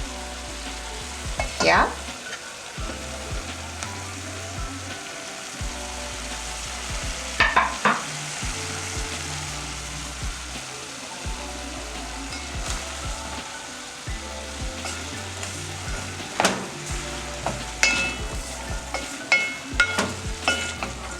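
Onions frying and sizzling in a pot where beef stew has simmered down, with steady sizzle broken by repeated stirring scrapes; a brief word is spoken.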